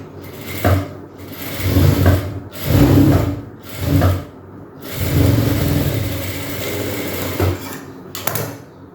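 A sewing machine stitches along folded petticoat cloth in short uneven bursts, running close and fairly loud with brief pauses between runs.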